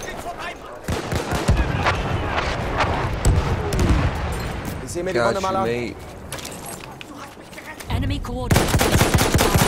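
Rapid machine-gun bursts and scattered shots crackle through a Battlefield 1 Rush match, defending on Xbox One X, loud and nearly continuous, with in-game voices talking over the gunfire.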